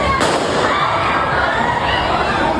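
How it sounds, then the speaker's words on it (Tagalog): A single gunshot rings out inside an airport: one sharp, loud crack near the start, followed by a steady roar of crowd noise and commotion. "umalingaw-ngaw na ang isang putok ng baril"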